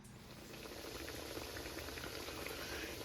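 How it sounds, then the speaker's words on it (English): Patties sizzle in hot oil in a skillet on a stovetop, a steady close crackling hiss with no talking, fairly quiet overall. "Here they are in the skillet, frying up."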